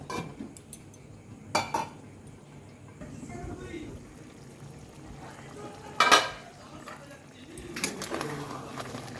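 A lid settles onto a metal pot of chicken korma simmering on a gas stove turned low, giving two sharp clanks several seconds apart amid quieter kitchen rattles.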